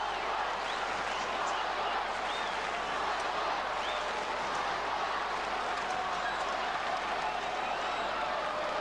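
A large Collingwood Magpies football crowd roars during a 2006 AFL match against West Coast, a dense, continuous wash of cheering and noise heard from a distance, steady and unbroken throughout.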